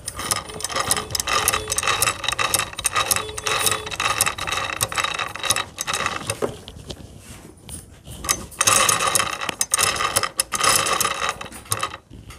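A sewing machine clatters with rapid mechanical rattling, the lower part of the feed dog rubbing against the shuttle, running in bursts with short pauses between.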